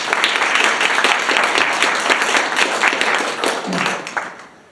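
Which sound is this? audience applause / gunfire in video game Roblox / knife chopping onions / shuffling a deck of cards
audience applause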